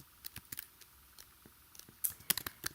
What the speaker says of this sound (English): you can start typing about yourself